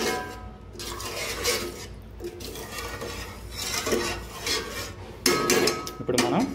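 Rice and water being stirred in a cooking pot for a Tamil Nadu style kushka, soft scraping and sloshing strokes in uneven bursts, fairly quiet and close.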